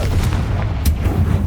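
A Confringo fire-blast spell going off in Hogwarts Legacy, a heavy booming burst with a sharp crack near the middle over a rumbling low background.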